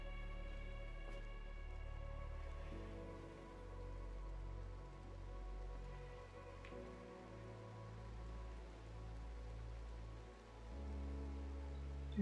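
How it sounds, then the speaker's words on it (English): Light rain falls steadily as a soft, continuous patter beneath a low electronic hum and droning background tones, faint and distant, with no voices. "Is it raining? Foggy rain?"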